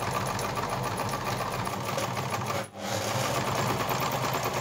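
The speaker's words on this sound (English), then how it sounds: "So let's get the sewing machine out and let's get into sewing." A sewing machine stitching fabric for small plush-toy outfits, a steady fast mechanical whirr with a brief pause midway before the needle resumes its even rhythm.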